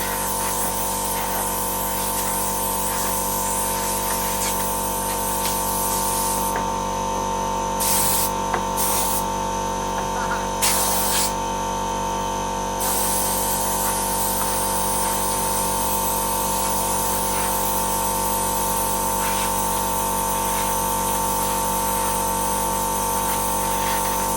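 A tyre-inflator air gun blows a steady, loud hiss of compressed air around a Renault RS Turbo, running continuously with a few brief breaks near the middle.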